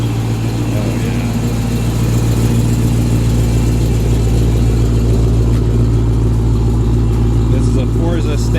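A Forza Stage 4 Dodge Hellcat tuned to 1,000 horsepower runs with a loud, steady, deep engine drone and a heavy low rumble throughout, holding a near-constant idle with faint rev swells.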